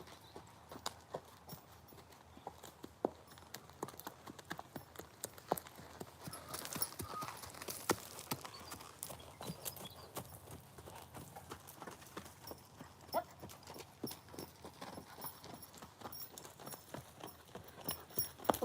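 Hooves of a little horse under a rider, a steady rhythmic clip-clop of footfalls repeating throughout, fairly quiet and somewhat distant.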